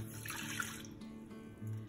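Water mixed with milk is poured into a bowl of biscuit dough ingredients, giving a faint, soft trickling stream that runs steadily for a couple of seconds with no talking.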